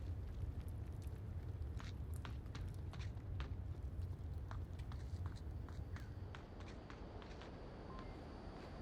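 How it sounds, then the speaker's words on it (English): Player footsteps in a VR arena shooter inside a tank warehouse, a quick run of light, sharp steps at an irregular pace over a constant low hum, fairly faint. "Chandler's hearing all these footsteps right now from Oddball"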